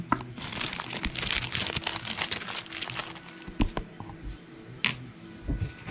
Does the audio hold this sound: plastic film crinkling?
yes